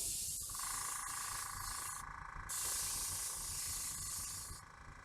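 A spray gun sprays paint onto a foam model Spitfire plane, giving a close, steady hiss that cuts out briefly partway through and then resumes.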